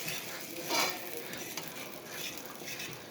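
Eggs cooking in browned butter with plenty of black pepper are stirred in a pan, giving a soft, steady sizzle with faint scraping strokes and one brief louder scrape near the start, at moderate level.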